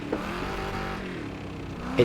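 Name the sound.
car engine in the video game Wreckfest 2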